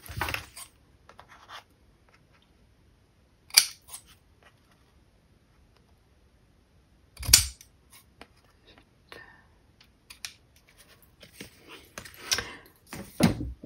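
Scissors snip the ends of a ribbon bow on a handmade double-panel Christmas card, giving a few sharp, separate cuts spaced out with quiet pauses between them, close to the microphone.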